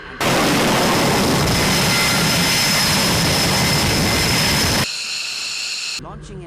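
An F-18 jet launches from an aircraft carrier with a loud, sustained roar that cuts off sharply near the end, leaving a fainter high whine and some deck noise.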